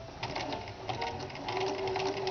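A sewing machine stitches around the fabric brim of a Kapp-style Christian headcovering, a steady close mechanical whir with rapid needle chatter running without a break.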